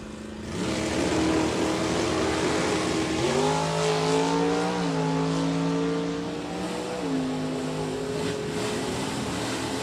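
A red 1988 automatic Mustang and a powder blue 66 automatic launch side by side in a Super Stock drag race. Their engines roar hard and rise in pitch through the gears, loud and close, with no talk over them.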